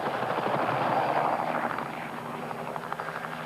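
A helicopter's steady rotor chop and engine drone fill the air, fairly loud and continuous, then ease slightly as it passes.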